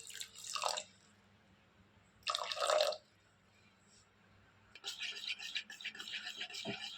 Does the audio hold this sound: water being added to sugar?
yes